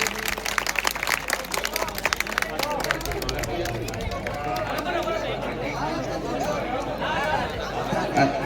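A crowd at a village felicitation ceremony in Kanjhara, Gujarat, claps in scattered bursts to welcome a guest, mixed with chatter and a loud voice over the hubbub.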